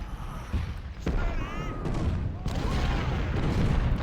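Cannon and rifle fire crackle and boom in a Civil War battle in the Ultimate General: Civil War strategy game, with several sharp reports over a continuous roar of distant musketry.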